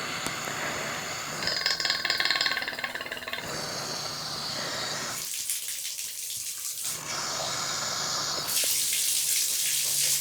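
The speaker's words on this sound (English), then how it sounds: "All right, I'm gonna say the water's really running." Water gushes through household plumbing after the supply is turned back on while a thermal expansion tank is being replaced, a loud running and splashing flow with sputtering air bursts and changes in intensity.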